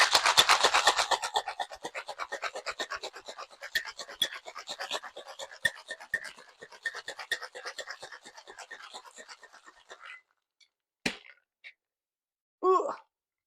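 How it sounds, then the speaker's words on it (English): Ice rattles hard inside a cocktail shaker in a fast, steady rhythm, loud at first and gradually tapering over about ten seconds, followed by a few scattered knocks and clinks. "we are still gonna shake for about 15 to 20 seconds until it's ice cold in your hand"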